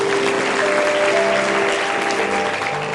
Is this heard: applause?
yes